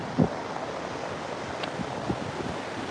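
Ocean surf on a Southern California beach, a steady rushing wash of waves blended with wind buffeting the microphone, with a few soft thumps and no clear voices.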